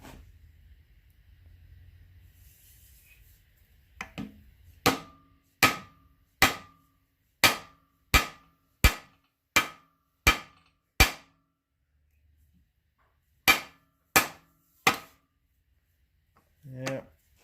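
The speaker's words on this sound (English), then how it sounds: "let me get my rubber hammer" A rubber hammer knocks a stud bearing mount into an Allis Chalmers B tractor engine: about a dozen sharp, evenly spaced blows in two bursts after a quiet pause, close and loud, with a brief voice at the end.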